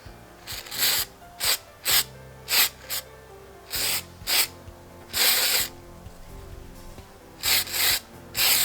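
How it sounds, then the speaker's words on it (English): Repeated bursts of aerosol spray paint hiss in short and longer blasts, close by, with gaps between each spray, as paint is sprayed onto a rope-textured plastic planter pot. "And keep shaking it as you spray."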